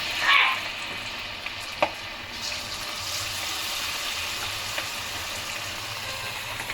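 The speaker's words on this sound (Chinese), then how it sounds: "看了锅边冒青烟了，咱就开始下料，就开始炸。" Pork ribs drop into hot oil for Boshan-style fried ribs, setting off a steady, close sizzle and bubbling fry, with a brief exclamation from a voice near the start.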